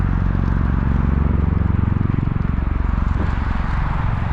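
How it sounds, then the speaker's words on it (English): A military twin-rotor helicopter passes near a coastal road between Dana Point and Oceanside, its loud, rapid rotor chop and engine drone filling the air continuously and close. "So, pretty cool helicopter though. Twin props,"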